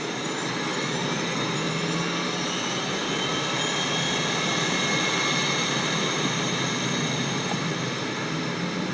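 The turboprop engines of a Dash 8 Q400 spin up in X-Plane 11, a steady, loud whining roar with a constant high-pitched hum and no speech.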